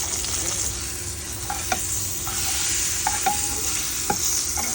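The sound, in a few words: pomfret fish frying in a pan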